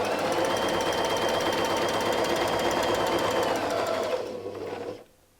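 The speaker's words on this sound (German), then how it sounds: "Wir schieben und wir nähen erneut." A sewing machine runs steadily, stitching lines across a quilt block guided by a circle ruler, a continuous close whir that holds for about four seconds before slowing and cutting off.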